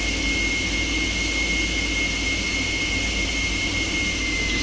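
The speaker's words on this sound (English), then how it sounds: "We're going to go ahead and taxi out to the runway" An F-16 jet taxiing to the runway in a flight simulator game, heard as a loud, steady jet-engine roar with a thin high whine held throughout and no talking.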